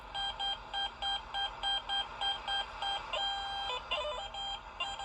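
A Garrett Vortex metal detector on a New Hampshire beach gives off repeated electronic signal beeps in a quick regular pattern, fairly faint, with warbling tones near the end.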